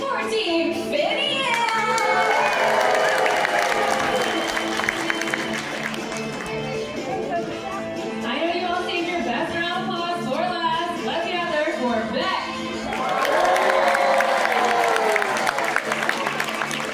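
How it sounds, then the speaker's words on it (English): An aquarium show audience claps and cheers for a team. The crowd applause swells in waves, with voices over a busy, layered backdrop that sounds like music, and a louder burst comes near the end. "I need to hear all of that applause for Team Finian"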